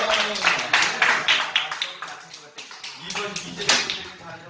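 Scattered hand claps from a church group of children and teachers at a Korean church service, uneven and overlapping in small bursts, heard beneath ongoing talk and room chatter.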